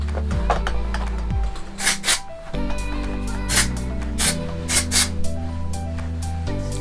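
Several short hissing bursts of texturizing hairspray, close by, over a steady background hum with some rustling.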